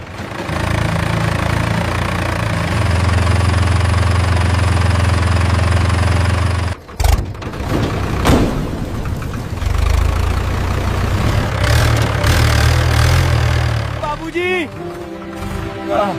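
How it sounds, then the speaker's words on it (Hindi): A tractor engine idles with a steady low drone, cuts out abruptly for a couple of seconds, then catches and runs again before other clattering sounds take over near the end. "ट्रैक्टर चालू हो गया"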